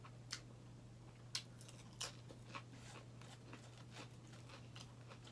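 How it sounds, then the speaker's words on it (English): Crunchy Fritos in a keto Frito pie with hamburger and chili seasoning are chewed close to the mic, a handful of sharp crisp bites scattered over a low steady hum, with no talking. "I love the crunch."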